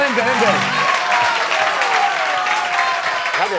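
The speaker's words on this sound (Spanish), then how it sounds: "¡Un aplauso para Pablo!" A TV studio audience on a Spanish entertainment show breaks into loud, sustained applause that fills the clip, with a voice talking over the clapping throughout.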